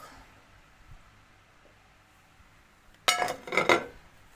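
Dishes and glass clink sharply in a home kitchen as a larger mixing bowl is fetched for a vegetable and mushroom medley, a short burst of clatter near the end after quiet room noise.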